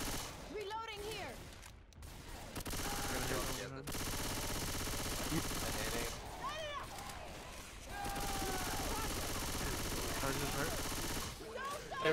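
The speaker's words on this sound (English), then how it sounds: "I'm gonna shoot him." Gunfire in a competitive online shooter match, rapid bursts and shots running through most of the stretch at moderate level, with players talking over the action.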